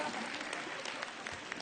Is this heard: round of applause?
yes